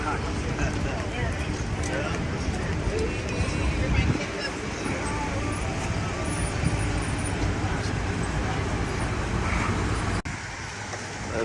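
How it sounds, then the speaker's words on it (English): A trolley pulls up on a street near a Maine beach, a low rumble blended into steady traffic noise with a brief bump midway, while background voices murmur. "Another trolley pulling up."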